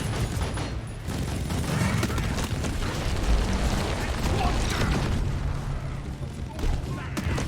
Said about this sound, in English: sometimes there's just explosions and you're not sure where they're coming from